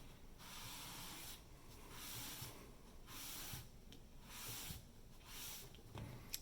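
A felt-covered eraser, with the felt stapled on, is rubbed over paper to burnish a monotype print. It makes soft, rhythmic scrubbing strokes roughly once a second, faint and close, with no voices.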